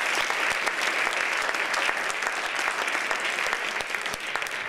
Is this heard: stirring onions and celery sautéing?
no